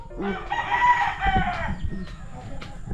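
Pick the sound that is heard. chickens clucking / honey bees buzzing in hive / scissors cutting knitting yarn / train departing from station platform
chickens clucking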